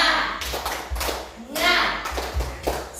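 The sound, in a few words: spirit clap by audience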